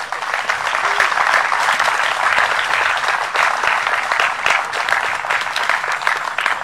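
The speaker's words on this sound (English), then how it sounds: "Let's give a round of applause for that." Steady applause from an audience at a youth center groundbreaking event, dense clapping that holds at an even level for several seconds with no voices over it.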